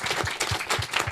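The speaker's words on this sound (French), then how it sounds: "On peut applaudir Jim." Studio audience applauding for a show mascot, a steady dense patter of claps with no voices over it.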